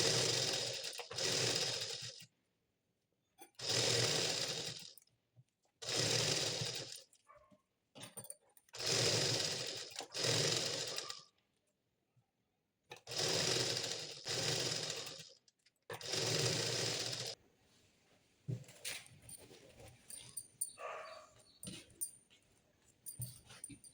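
A sewing machine runs a double stitch along a blouse seam in a series of loud, close bursts of rapid whirring, separated by short pauses, with no voices.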